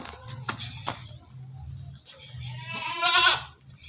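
Several young male goats about eight months old bleat on a farm, a couple of sharp calls early on and a longer, louder wavering bleat near the end, close by with light background noise.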